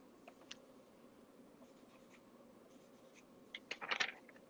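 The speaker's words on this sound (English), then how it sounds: "I'm going to write it in." A marker or pen writes the word Skittles on a board with faint scratchy squeaks, sparse strokes early on building to a quick burst of louder scribbling near the end, with no talking.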